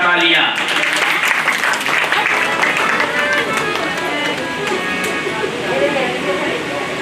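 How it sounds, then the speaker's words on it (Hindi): An audience at a Hindu Ram Katha devotional discourse claps vigorously, with a loud burst at first that settles into steady applause beneath ongoing singing or voices. "जोरदार तालियां।"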